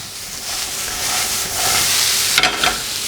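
Capsicums sizzle and hiss in a hot frying pan as they are stirred in, a steady close frying sound with a couple of sharper scraping bursts near the end.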